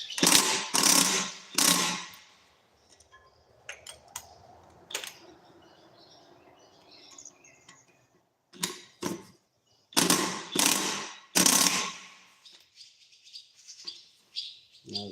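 A hand ratchet clicks in several quick bursts while tightening bolts during brake reassembly, with short pauses between runs and a few lighter mechanical taps in the gaps.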